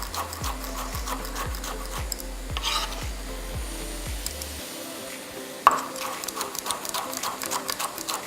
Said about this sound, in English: I'm going to try and do just little tiny chops